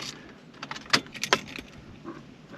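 A car key jangles on its ring and clicks into the ignition as it turns, a short burst of metallic rattles with a couple of sharper clicks, close and fairly quiet.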